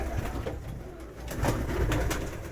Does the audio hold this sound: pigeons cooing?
yes